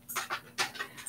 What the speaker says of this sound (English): That's my dog, excuse me.